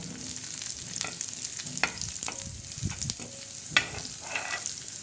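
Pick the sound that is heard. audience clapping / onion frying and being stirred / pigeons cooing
onion frying and being stirred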